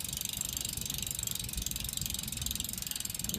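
An 85 620 bicycle derailleur clicks and ticks as it is shifted during a bench test. The fast, even mechanical rattle is steady and fairly quiet throughout, with no voices.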